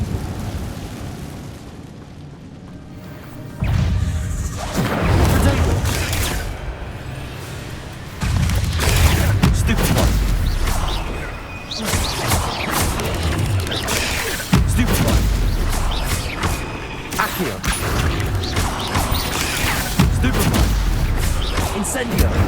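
Incendio fire spell cast in Hogwarts Legacy, a series of loud roaring whooshes and booming blasts mixed with combat clatter, close and dense, with a voice shouting over the action.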